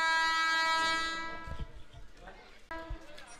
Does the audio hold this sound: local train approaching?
yes